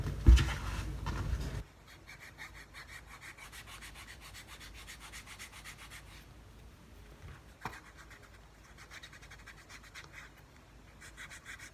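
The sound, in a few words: burnishing a leather hatchet sheath edge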